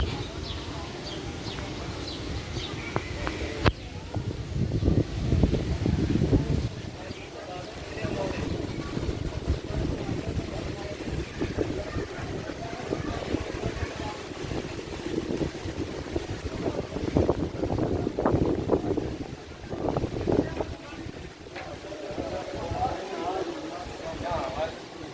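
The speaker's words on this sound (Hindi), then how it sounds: "आज मौसम गर्म है लेकिन तेज़ हवा चल रही है" Strong wind on a hot day during a railway journey from Bahawalpur buffets the microphone in gusty, rumbling bursts, with people talking underneath throughout.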